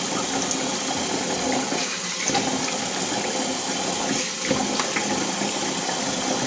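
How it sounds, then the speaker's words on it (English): Cold water splashes and runs steadily while a face is rinsed after a close shave with a DE safety razor, with a continuous close wash and a few brief splashy bursts. "I got my face in cold water."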